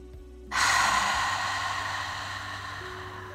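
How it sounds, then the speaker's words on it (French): Ujjayi yoga breathing, made by tightening the throat, comes as one long, soft, airy breath that rises suddenly and then slowly fades, close and alone like a faint ocean wash. "votre respiration va devenir un son, comme le son des vagues dans l'océan"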